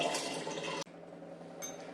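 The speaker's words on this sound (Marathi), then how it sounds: "याच्यामध्ये आपण थोडं थोडं पाणी टाकून त्याला थोडंसं अजून फिरवून घेणार" Water is poured steadily into ground rice batter in a mixer jar while making ghavan. The pour runs loud and continuous, then drops suddenly partway through and carries on softer with a faint brighter splash near the end.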